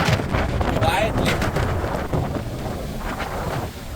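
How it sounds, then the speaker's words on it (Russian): Wind buffets the microphone while someone cycles into a cold headwind in Switzerland, a loud, continuous blustery rumble with gusty swells. "Падла ветер."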